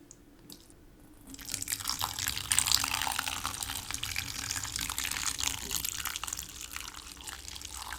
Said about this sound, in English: We have a nice, steaming hot kettle of water, and we will allow this to soak just for a bit.